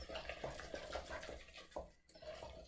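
A spoon stirs thinned pizza waffle batter in a bowl with soft, repeated scraping and sloshing strokes, quiet and close.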